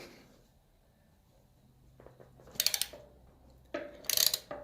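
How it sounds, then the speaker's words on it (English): A ratchet on a 12mm socket with an extension backs out the bottom suspension bolt of a Suzuki DR650 motorcycle, giving two close, quick bursts of rapid clicking with a brief pause between them. "we'll take out the bottom suspension bolt, 12mm with an extension"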